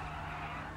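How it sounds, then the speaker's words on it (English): Car tires spin and squeal at a car show drag race, a steady loud skidding roar with engine drone, heard up close for under a second. "I'm guessing by the tire spinning."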